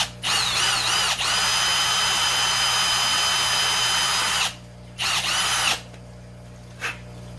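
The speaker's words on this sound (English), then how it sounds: "Just going to drill our hole there" A power drill whines steadily for several seconds while drilling a hole in a DIY aquarium sponge filter part, then stops and gives two short bursts, with a steady hum underneath.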